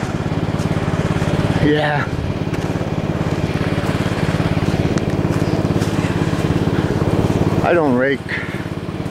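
A lawn mower cutting the season's last grass runs as a loud, steady engine drone close by throughout, with someone talking briefly over it.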